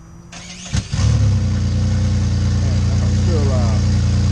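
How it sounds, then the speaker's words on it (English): A 2002 F-body car engine cold-starts with a short cranking whir, then catches and settles into a loud, steady, rumbling idle that carries on for the rest of the clip. "I guess we'll get a little small cold start."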